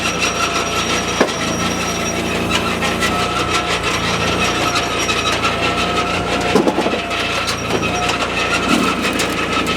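A Wallenstein WP1624 wood processor saw cuts through a log held down by a hydraulic top roller, giving a steady loud grinding rasp with a continuous machine hum and a few sharp knocks along the way.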